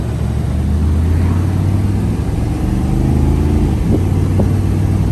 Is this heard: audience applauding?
no